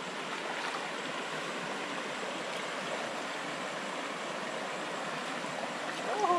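A mountain stream flows with a steady, close, rushing wash of water that stays even throughout, with no voices over it.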